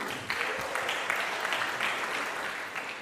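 Audience applause at a klezmer concert welcoming the band, a dense, steady crowd clapping that stays loud and even for the whole stretch.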